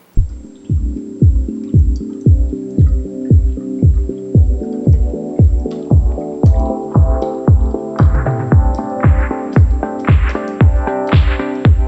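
A dark coconut coffee bourbon barrel-aged beer pours from a bottle into a glass in rhythmic glugs, about two per second, that grow higher and more gurgling as the glass fills.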